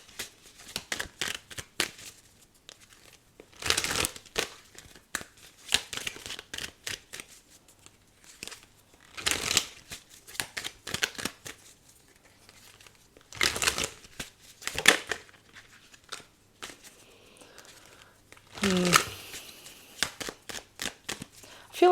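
Tarot cards are shuffled and drawn in bursts: several sharp riffling flurries of card shuffling spaced through quiet stretches, close and crisp, with soft handling rustles between them and no talk.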